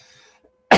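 A single sharp, loud cough bursts out near the end after a quiet stretch with a faint hum.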